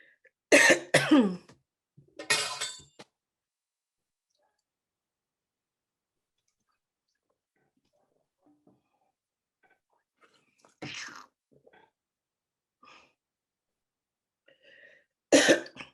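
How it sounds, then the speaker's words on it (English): Several close coughs, a quick cluster at the start, another burst a moment later, then quiet and two more coughs near the end. "I think my cough is kicking up a little bit."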